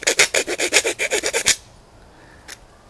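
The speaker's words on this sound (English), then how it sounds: "Guess you can't see that, so just grind it down like that" A file rasps back and forth about ten times in an even rhythm, widening a screw hole in a flashlight mount on an AR-15 stock, followed by a pause and one faint scrape.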